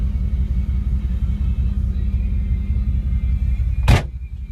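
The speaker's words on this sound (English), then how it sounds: "I'll roll down the windows, but we could just listen to the car." A 1994 Pontiac Firebird Trans Am idles with a steady, deep low rumble heard from inside the car, ending with a brief sharp mechanical click or thump near the close.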